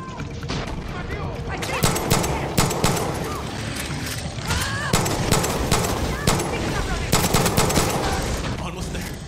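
Rapid bursts of automatic gunfire and scattered single shots crack repeatedly in a Far Cry 6 firefight, loud and close, over a dense layer of battle noise.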